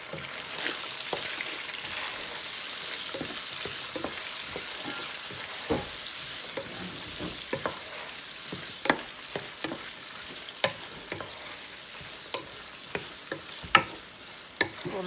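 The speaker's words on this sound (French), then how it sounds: "on va y ajouter notre ail, poivron et oignon émincé. Et on fait revenir le tout." Garlic, bell pepper and sliced onion sizzle steadily in a pan for Thai-style fried rice, with repeated clinks and scrapes of a utensil stirring through the hiss; no voices.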